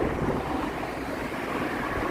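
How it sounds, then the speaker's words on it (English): Waves breaking on the beaches of Chicago's lakefront along Lake Michigan at sunrise, a steady rushing wash of surf mixed with wind buffeting the microphone, continuous and fairly close. "the waves crashing there on the"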